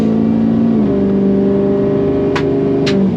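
A 6.0 diesel truck under hard acceleration gives a loud, steady engine drone with a strong low tonal hum that drops slightly in pitch, and two brief higher squeals break in near the end.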